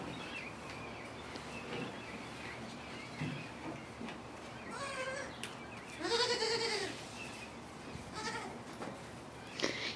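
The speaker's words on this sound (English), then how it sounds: "He's a good goat." A pet goat bleating several times at close range, wavering calls with one louder, longer bleat in the middle, amid faint background noise on a small farm.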